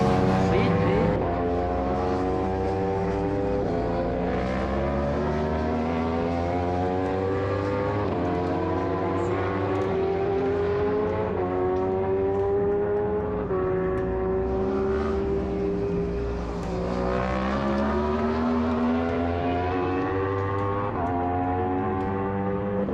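Racing motorcycle at a French superbike championship round, its engine note rising and falling through the gears as it is ridden hard, a sustained loud drone close by, with people talking over it.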